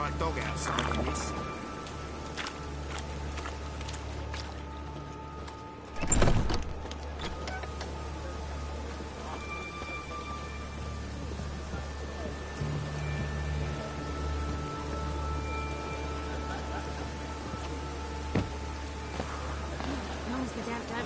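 Video game rain falls in a steady, soft wash throughout a long stretch. A brief louder burst comes early on, and faint tones and other game sounds sit in the background. Speech is likely present.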